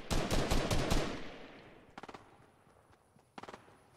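Fortnite gunfire: a fast burst of five or six loud shots opens the clip, followed by two fainter, quicker bursts of distant automatic fire later on.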